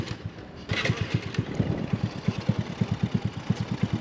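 Honda Navi motorcycle with an upgraded carburetor at close range, its engine popping in a rhythmic, uneven idle with a sharp knock partway through. The pulses are loud and distinct, and no one talks.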